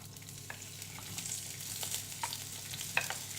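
Onion frying in olive oil for a shrimp biryani, a quiet continuous sizzle with light stirring clicks throughout.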